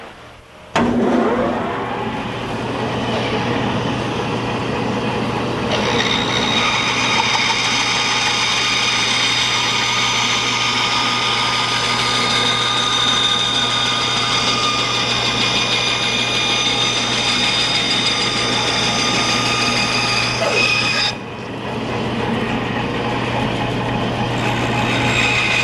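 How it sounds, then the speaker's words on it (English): A bandsaw cuts wood for a simple bench, running loud and steady for about twenty seconds with a sustained whining hum and rough cutting noise, then spinning down near the end. "now I'm gonna go cut those out back on the bandsaw again"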